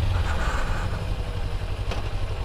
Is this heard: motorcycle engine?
yes